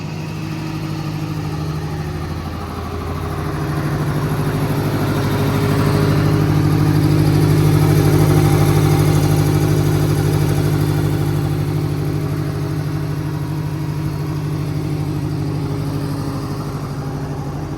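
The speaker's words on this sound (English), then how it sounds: "So if you toggle up, air on, compressor turns on." An air compressor runs on a 2018 Ford F550 4x4 mechanics service truck with an IMT crane body, a loud, steady engine-like drone with a rapid pulsing chug that swells a little midway, close and continuous.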